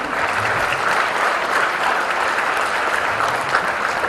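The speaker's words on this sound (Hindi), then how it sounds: "जोरदार ताली से स्वागत।" A theatre audience at a youth drama festival opening gives loud, dense, continuous applause to welcome the directors, the clapping even and sustained across the whole clip.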